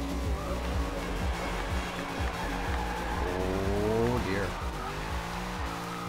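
Race car engines roar in a Forza Horizon 2 sprint race, rising through gear shifts with a brief screech, steady and moderately loud, while someone talks throughout.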